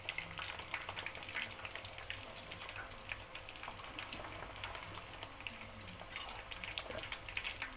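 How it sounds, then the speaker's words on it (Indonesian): Chicken deep-frying in hot oil for a crisp finish, a quiet, steady crackling sizzle with dense tiny pops running throughout, no voices. "Kita goreng kering ya, biar enak dimakannya."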